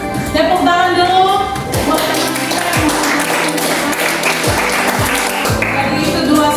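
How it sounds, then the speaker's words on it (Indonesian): Classroom applause from students, a dense burst of clapping that fills the room and carries on throughout, with a few sharper taps standing out. "Tepuk tangan dulu."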